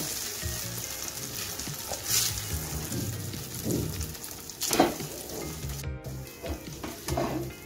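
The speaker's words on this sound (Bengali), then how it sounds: "এখন যে সুজিটা আমি দুধে ভিজিয়ে রেখেছিলাম সেটা দিয়ে দিচ্ছি। একটু ভেজে নেব।" Semolina soaked in milk fries in a pan for Ganesh Chaturthi sujir laddu, giving a steady close sizzle with soft stirring scrapes throughout and no talk.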